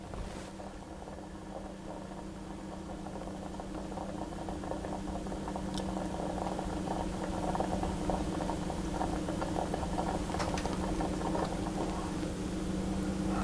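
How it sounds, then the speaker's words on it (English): Milk and rice for rice pudding coming to a boil in a pan, a soft continuous bubbling hum with a steady low drone and a couple of faint clicks, quiet and close, no talking. "that's now started to boil, so I'm going to turn it down until it's just simmering"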